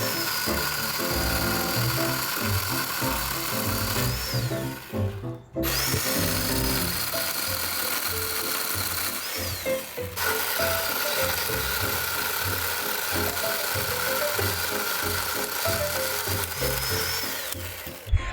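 An electric chainsaw cuts through wood outdoors in a garden, a loud, steady motorised whine that runs almost continuously with two brief dips in power.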